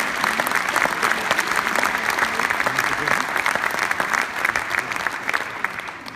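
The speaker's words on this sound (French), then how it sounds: "On peut l'applaudir." Sustained audience applause fills a French political rally hall in Nevers for a senator and former regional president, dense steady clapping throughout with a faint murmur of crowd voices underneath.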